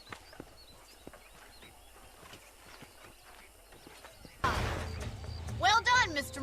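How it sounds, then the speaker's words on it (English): Horse hooves clip-clop in the Western video game Red Dead Redemption, quiet ambience at first, then a sudden louder burst of hoofbeats and movement near the end, with a voice whinnying or speaking over it. "These are fine horses."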